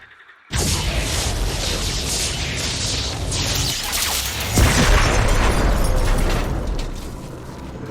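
Massive explosion in StarCraft 2: Legacy of the Void as a power structure is destroyed, a sudden loud blast after brief quiet, then a sustained roaring rumble with a second swell of debris and energy midway.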